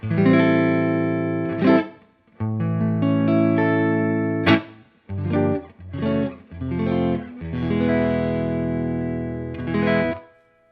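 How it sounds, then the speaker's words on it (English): Clean electric guitar chords ring out, strummed and left to sustain, with short pauses between phrases and no distortion; no voices. Played without an Ibanez TS9 Tube Screamer pedal engaged. "So here is the clean sound without the pedal engaged"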